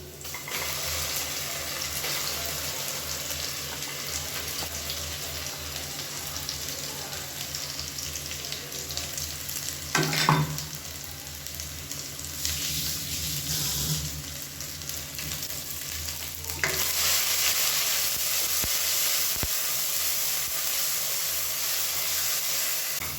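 Ground masala paste frying and sizzling in a pan for a South Indian chicken curry, with a steady broadband hiss throughout and brief louder stirring bursts partway through, no talking.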